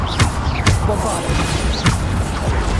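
Repeated Bombarda explosion spells going off in Hogwarts Legacy, with sharp blasts landing roughly every half second or so over a busy backdrop of combat noise and game sounds.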